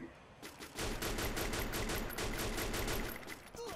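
Rapid automatic gunfire in the video game Free Fire, a loud, sustained burst of evenly spaced shots lasting several seconds before tapering off.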